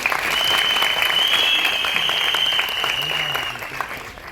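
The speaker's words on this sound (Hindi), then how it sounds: "प्लीज तालियां होनी चाहिए।" Audience applause at a teaser event for the film 120 Bahadur, a loud, steady burst of clapping across the whole stretch that fades slightly near the end.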